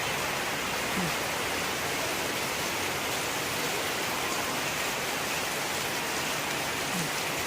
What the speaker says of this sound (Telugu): బయటికి రావడానికి కూడా వీల్లేదు అంత పడుతుంది వాన